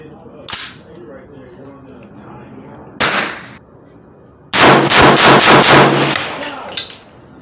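Shots from a 300 Blackout rifle firing Barnes VOR-TX ammunition at a range: two separate loud reports, then a tight burst of rapid shots in quick succession, sharp and close.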